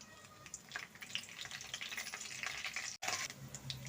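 Red chilies, mustard seeds and curry leaves crackle and sizzle in hot oil for coconut rice, a steady dense frying hiss with popping spatters, broken by one abrupt instant of silence near the end.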